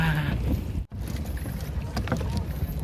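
A boat's engine drones steadily nearby with water rushing along the hull, broken by a brief dip in the noise, on a boat ride to Boracay Island.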